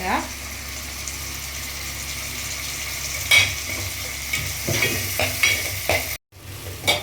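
Onions and tomatoes sauté in a hot pan with a steady sizzle. A utensil stirs and scrapes against the pan in repeated bursts toward the end, close up.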